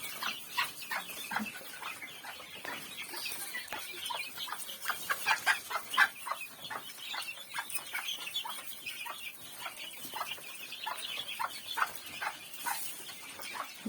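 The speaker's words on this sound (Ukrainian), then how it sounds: "вона ще квокче" A hen clucks repeatedly in short, uneven bursts, close by, with faint chicken chatter around her and no talking.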